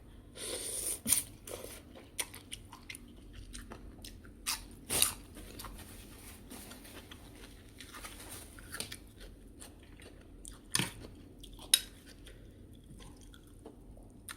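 Someone eating spicy Thai papaya salad late at night, with close, wet chewing and intermittent crisp crunches and bites scattered across a quiet background, no talking.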